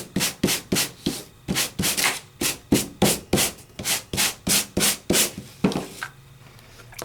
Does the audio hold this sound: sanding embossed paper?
yes